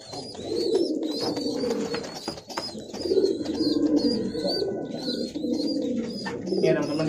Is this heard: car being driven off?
no